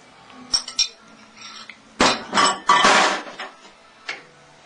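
Stirring maja blanca mixture in a pot: a spoon scraping and clinking against the pot in irregular bursts, some strokes louder than others, close by and with no talk.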